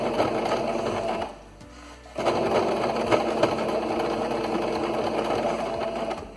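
A domestic sewing machine runs steadily as it stitches a thick dish towel, pausing briefly for a reverse stitch before resuming its close, even mechanical whir.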